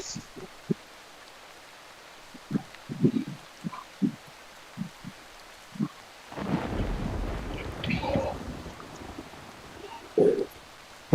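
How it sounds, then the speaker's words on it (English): Thunder rolls in a long low rumble during rain at an outdoor dirt race, following scattered nearby thumps and knocks, then fades into a second shorter crack-like burst. "Oh, hey, it's thundering."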